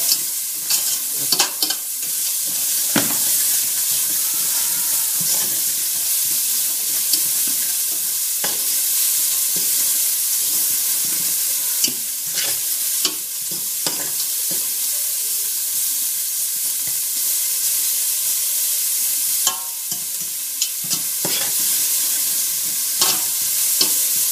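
Sausages fry in olive oil in a pan, giving a steady close sizzle and hiss that runs throughout, broken by occasional louder crackles and pops with no voices.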